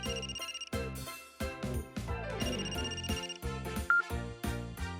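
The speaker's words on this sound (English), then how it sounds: "Phone's ringing." A telephone rings in a cutscene of the video game Another Code R, a repeated electronic ringtone in short bursts with musical tones mixed in, fairly faint overall.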